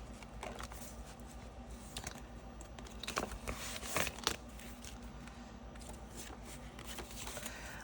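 Paper money going into a budget envelope: soft, close crinkling and flicking of bills and paper, a continuous light rustle with a slightly louder flurry near the middle, no voices.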